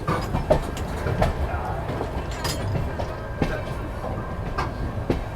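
Marathwada Sampark Kranti Express running on rails, heard from inside, with a steady rumbling roll and periodic clicking wheel beats at an even rhythm.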